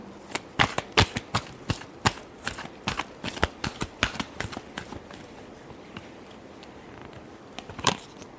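Tarot cards are riffled and shuffled in a run of crisp, rapid flutters and snaps, close and clear, thinning out toward the end with a final burst.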